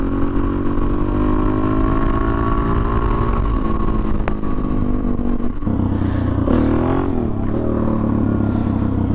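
Suzuki DRZ400 dirt bike ridden along a trail, a loud, close single-cylinder engine droning steadily with shifts in pitch as the rider changes throttle.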